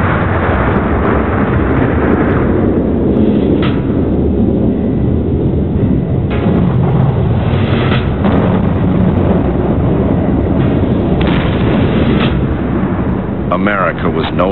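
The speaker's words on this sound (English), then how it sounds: "Then, in August 1949, the Soviets successfully tested a bomb of their own." Soviet Joe 1 atomic bomb test explosion of 1949, a loud, continuous, deep roaring rumble that stays steady for the whole stretch, with bursts of crackle and surges of noise rolling through it and a muffled, old-recording quality.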